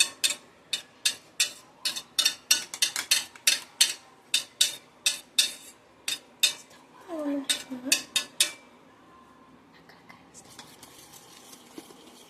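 Egg batter for bread egg toast being beaten in a bowl: a quick, steady run of sharp utensil strikes, close and fairly loud, with a brief voice partway through before the tapping stops and only faint room noise remains.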